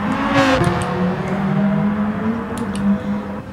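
A race car engine in Gran Turismo Sport holds a loud, steady high-pitched whine with slight pitch shifts, close and continuous, with no talk over it.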